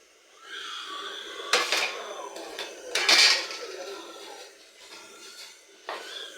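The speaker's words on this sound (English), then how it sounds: "give this soup a turn it so that everything will marinate inside." A spoon scrapes and knocks around a cooking pot as egusi and ogbono soup seasoned with crayfish is stirred, giving a few louder clanks among steady soft scraping, close and alone.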